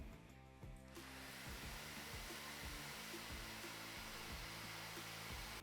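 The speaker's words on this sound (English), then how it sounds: "Always diffuse dry curly hair." A hair dryer fitted with a diffuser drying curly hair switches on after a moment and then blows in a steady, even roar that stays close and constant.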